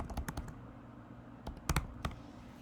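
Someone types on a computer keyboard in two short bursts of crisp, close clicking keystrokes with a pause between them.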